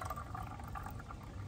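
Water drains steadily out of a tub where wool has been soaking, a continuous close gurgling and rushing flow with no voices.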